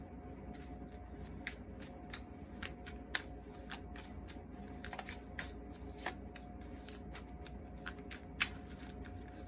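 Playing cards are shuffled and handled, giving a faint, soft run of quick riffling ticks and snaps at an uneven pace, with no talking.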